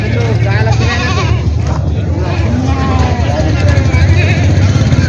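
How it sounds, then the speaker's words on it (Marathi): Osmanabadi goats tied up at a busy goat market in Vasmat, Hingoli, Maharashtra bleat repeatedly, mixed with constant crowd chatter and nearby talking, all loud and dense. "या साईडला शेळ्या बांधलेल्या आहेत मित्रांनो"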